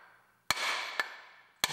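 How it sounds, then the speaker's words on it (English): A water pump adjustment tool hammers the pump shaft back into place on a 1993 Mustang GT convertible engine: three sharp metallic knocks, each ringing briefly, close and loud in a quiet workshop. "It's going to hammer the shaft back where it belongs."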